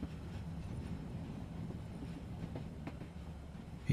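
A train rolls steadily through snow, giving a low continuous rumble with faint rhythmic clatter, alone without voices.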